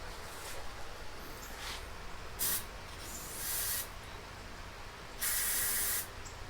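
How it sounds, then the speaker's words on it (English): Brake cleaner sprays onto a Chinese SKS rifle to clear cosmoline, heard as three short hissing bursts, the last one longest, over a steady low background rumble. "Brake clean is wonderful."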